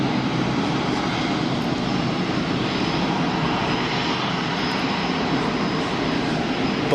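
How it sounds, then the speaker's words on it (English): Boeing Dreamliner jet engine roaring at Geneva Airport, a loud, steady broadband rumble with a hissing top that holds unbroken throughout, close and constant with no talk. "I'm not going to complain at seeing the Dreamliner"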